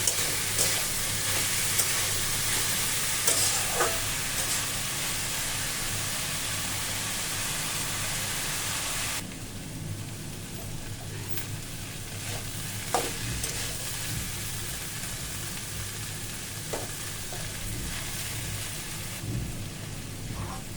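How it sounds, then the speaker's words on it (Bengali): Malabar spinach (pui shak) sizzles steadily in a hot pan, a continuous close frying hiss with occasional stirring scrapes and no talking. "হয়ে গেল আমার পুঁইশাক ভাজি"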